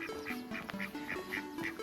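Ducks quack close by on a still, humid morning, a steady series of short nasal quacks repeating in quick rhythm.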